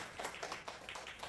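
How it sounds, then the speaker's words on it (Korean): A small audience gives a short burst of scattered hand clapping, faint and close-miked, lasting just over a second with uneven claps. "우리 이분한테 더 건강하시라고 큰 박수 한번 주십시오"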